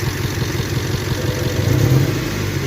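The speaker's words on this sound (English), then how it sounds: "Obviously the engine is shaking." Toyota 4Runner engine idling with a misfire, a close, loud, lumpy low rumble with an uneven pulsing beat and a slight rise in intensity toward the end.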